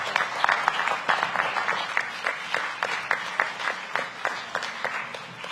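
Audience applause at a dinner event following an interview: a dense, steady patter of many hands clapping that keeps going without a break, fairly loud and close, with no talk over it.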